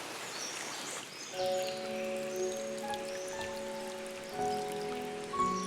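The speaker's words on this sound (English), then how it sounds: "Only a few drops now fall from the leaves." A few drops fall from rainforest leaves during a lull in the rain, soft scattered patters over a hushed wet ambience, with sustained tonal insect or bird calls droning steadily in the background.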